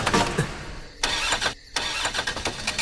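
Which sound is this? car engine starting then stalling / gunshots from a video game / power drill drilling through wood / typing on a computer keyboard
car engine starting then stalling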